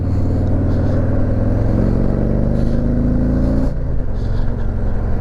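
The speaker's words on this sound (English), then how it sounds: "see how well it picks up the motorcycle exhaust, the rumble of the bike" A steady, close motorcycle exhaust rumble picked up by a helmet microphone, with low harmonic drone that shifts pitch midway as the bike idles and revs, continuous throughout with no talking.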